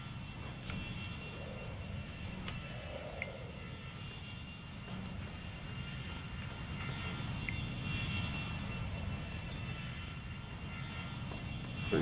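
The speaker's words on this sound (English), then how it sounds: "Is that a new plane?" An airplane engine in the Universim game drones steadily for the whole stretch as a low, even roar with faint ticks on top. It stays fairly quiet and constant and swells slightly at the very end.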